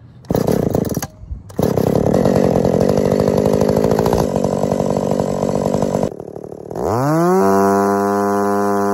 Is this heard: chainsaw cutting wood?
yes